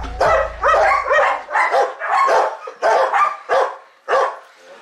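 Dogs at an animal shelter bark from inside a cage, giving about eight loud, close, separate barks and yips in an uneven rhythm. A brief low rumble can be heard at the start.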